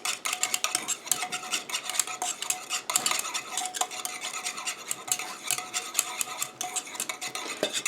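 Urea being stirred into water in a bowl for an olive foot moisturizer, a rapid, steady run of metal spoon clinks and scrapes against the bowl, close and busy throughout.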